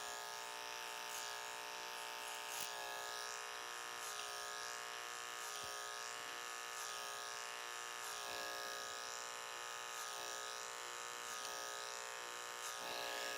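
Electric hair clippers blending a haircut for a classic pompadour, a steady high-pitched motor buzz running continuously, close and fairly quiet, no talking.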